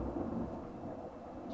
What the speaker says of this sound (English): The thunder exploded.